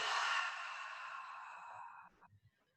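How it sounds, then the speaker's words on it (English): A long, steady exhale through the mouth during a yoga flow, soft and breathy, fading out over about two seconds before a few faint rustles. "Maybe exhale out through the mouth."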